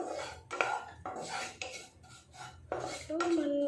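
Kalonji and fenugreek seeds being dry-roasted in a pan at home, with repeated metallic scraping and clinking of a spoon against the pan in short bursts, fairly close and moderately loud, no voices.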